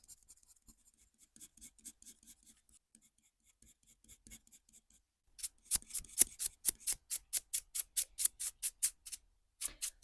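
Coloured pencil sketching fur on paper: faint, scattered scratches at first, then a run of quick, evenly spaced short strokes, crisp and close, with no voices.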